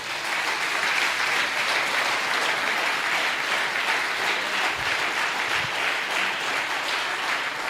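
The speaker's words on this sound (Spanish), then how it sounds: "Si va a darle el aplauso, déselo fuerte." Church congregation giving strong applause during a sermon, a continuous dense roar of many hands clapping, steady and fairly loud throughout with no talking over it.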